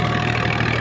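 A tractor engine drones steadily while pulling a cultivator, a continuous close rumbling hum with no change over the short moment.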